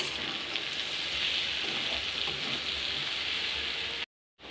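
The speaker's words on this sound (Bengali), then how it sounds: "সবজিটা আমার ভাজা হয়ে গেছে" Okra and boiled potato fry together in a pan, giving a steady, even, rain-like sizzle at moderate volume that cuts off abruptly just before the end.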